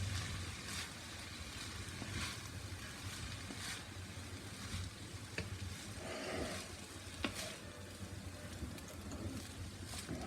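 Vegetable fried rice sizzles in a hot pan, a steady close frying hiss with occasional small crackles and clinks running throughout, no talking.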